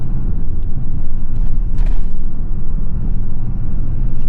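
A RAM 3500 pickup truck accelerating hard at wide open throttle, giving a loud, steady low rumble of engine and drivetrain that holds through the whole stretch with no talking.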